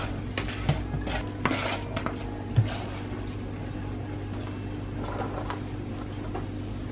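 Icing being spread over the top of a rainbow cake with a utensil, producing soft scraping and light clinks against a dish, faint and close, with no talk.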